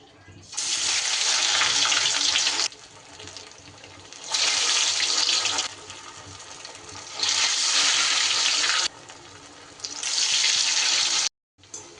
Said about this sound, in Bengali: এবার একটা একটা করে পটল ফিঙ্গার এই কর্নফ্লাওয়ারের গোলাতে মাখিয়ে নিয়ে আর আমি তেলে ছেড়ে দেব